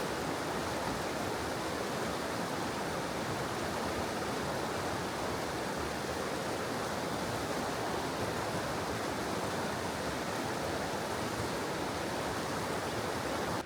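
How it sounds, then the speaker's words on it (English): A fast-flowing river with small side streams rushes beside a campsite, a dense, constant roar of water heard close and steady throughout, with no voices. "even though that main arm of the river is flowing super fast, we've got this little arm that comes off"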